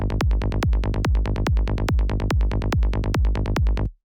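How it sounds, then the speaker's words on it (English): Late-2019 psytrance kick and rolling bassline, a loud steady four-on-the-floor pulse of about nine punchy kicks with bass notes filling the gaps between them, running alone for nearly four seconds before stopping. "So let's just have a listen to the first kick and bass."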